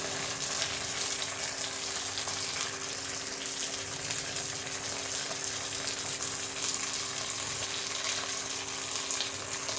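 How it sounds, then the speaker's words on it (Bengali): Water rinsed from a spice bowl hits turmeric, sugar and Kashmiri chili frying in a pan, giving a steady close hiss of sizzling and bubbling that holds evenly throughout, with no talking. "মশলার বাটিটা ধুয়ে একটু জল দিয়ে দিচ্ছি।"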